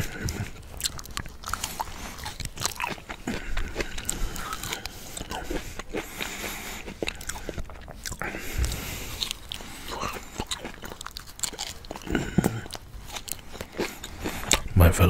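Sweet, juicy Japanese persimmon (kaki) fruit is bitten and chewed close to the microphone, with wet crunches and squelching chews repeating steadily throughout at soft, intimate volume.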